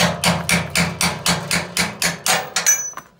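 A hammer pounds the pins out of an IMER Small 50 pump during rotor and stator removal: about ten loud, evenly spaced metallic strikes close by, ending in a lighter tap.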